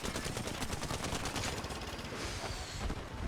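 Hip-fired weapons in Apex Legends Arenas gameplay let loose rapid, dense automatic bursts that run almost without a break, loud and continuous throughout.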